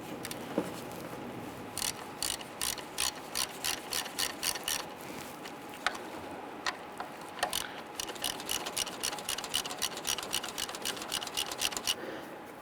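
Two Phillips head screws are backed out of the throttle position sensor on a 1994-2004 Ford Mustang 3.8L V6, making quiet, close, rapid ratcheting clicks in irregular bursts for several seconds.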